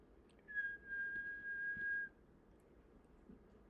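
One soft, steady whistled note held for about a second and a half in a quiet room, faint and alone.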